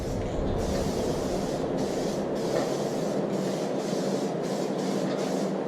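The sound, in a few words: spray paint can spraying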